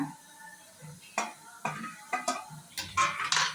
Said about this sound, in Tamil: இதை போட்டு நல்லா கிளறி விடுங்க